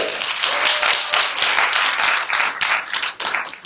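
Dense, sustained applause from a lecture audience at an evening event at UT Austin, many hands clapping loudly and steadily throughout with no pause.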